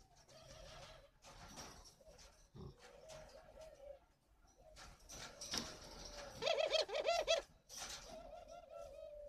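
Spotted doves coo at a breeding farm, repeated soft rolling phrases in short bursts, near and clear, with a louder run of calls toward the end.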